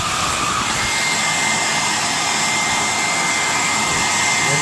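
An AIUNAOM 2400W ionic hair dryer blows close and loud, a continuous even roar of fan and rushing air with a faint whine, steady throughout with no speech.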